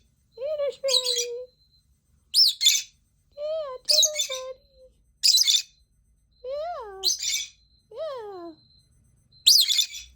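A pet bird gives a series of bright, rising chirps and whistled calls in short bursts with pauses between, close and clear, while a person speaks to it softly in between.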